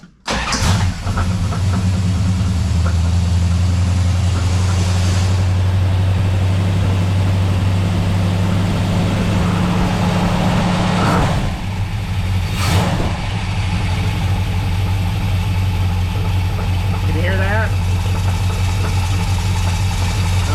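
A 1970 Dodge Charger's engine runs after a torque converter swap, a loud close idle with a deep steady rumble, punctuated by a few sharp knocks and brief revving swells, with no speech.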